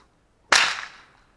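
A waxed handmade whip cracks once, a single sharp loud snap that rings out briefly and fades in a quiet setting.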